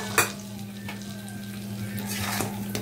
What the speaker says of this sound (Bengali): এরপর যে ভাজা মাছটা আমি ভেজে রেখেছি সেটা এক এক করে দিয়ে দিচ্ছি।